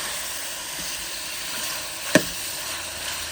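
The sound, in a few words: chicken frying with garlic and onion in a pot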